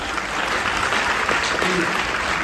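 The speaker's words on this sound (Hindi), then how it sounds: "जोरदार ताली से वेलकम होगा। एक बार थोड़ा बजा के देखिए" An audience claps loudly and steadily as a welcome for someone coming on stage, a thick continuous wash of applause that fills the whole moment.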